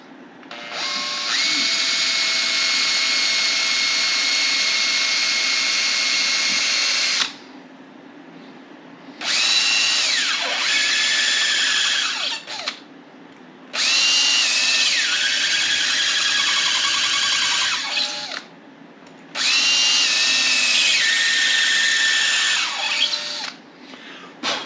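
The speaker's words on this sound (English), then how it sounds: "Got to keep pulling the drill bit out just to clear the fluid." Power drill boring by hand into a piece of brass held without a vise, with cutting fluid; four loud whining bursts of several seconds each, separated by short pauses as the bit is pulled out.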